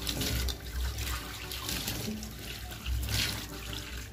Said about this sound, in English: Just add a small amount of water.